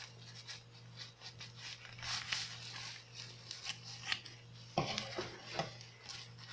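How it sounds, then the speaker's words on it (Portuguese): Scissors cutting through a disposable diaper, making quiet, close snipping and crunching strokes over a faint steady hum, with a sharper cut near the end. "vocês peguem aí uma tesoura e corta aqui"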